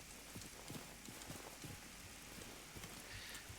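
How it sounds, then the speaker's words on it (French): Steady rain in the video game Generation Zero patters across a surface, with a dense, even hiss and occasional soft low thumps, heard alone with no voices. "Il pleut."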